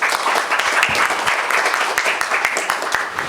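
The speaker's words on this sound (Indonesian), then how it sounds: "Mana tepuk tangannya buat Erlin" An audience at a school event applauds a poetry reader, with dense sustained clapping and a few voices mixed in.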